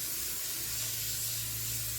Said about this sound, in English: I'm gonna spray my pan here.